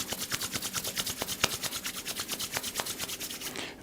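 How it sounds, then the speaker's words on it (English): Two hands rubbing briskly together, a close, soft, rhythmic swishing friction that repeats several times a second and stays quiet and steady throughout, with no talking. "so just rubbing the hands together"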